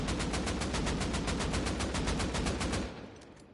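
Sustained automatic AK rifle fire from the console edition of the video game Rust, a dense rapid rattle of shots running loud and steady for about three seconds before cutting off into a short fading tail.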